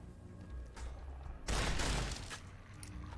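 A single loud shotgun blast in Fallout: New Vegas cracks out mid-moment over a quiet ambient bed, its boom spreading wide and fading over about half a second.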